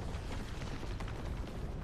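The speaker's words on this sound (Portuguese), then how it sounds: "Aquela explosão" A summon's explosion animation in the video game Saint Seiya, a dense, continuous roaring burst of booms and crackles, loud and close, with no voices.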